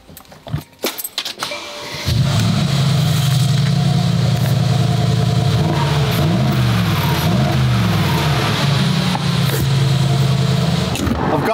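Clinks and rustles come first, then a stock Mercedes G-Wagon starts up and drives with a loud, steady engine hum that rises and dips slightly in pitch as it moves along.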